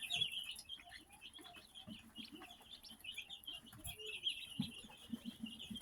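Chickens in a poultry brooding pen cluck and chatter in a steady, moderately close stream over faint background noise, with small bursts of scratching and movement and no talking.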